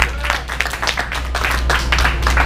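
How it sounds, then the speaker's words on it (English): Dense clapping from a crowd, continuous and fairly loud throughout. "Give him a big round of applause."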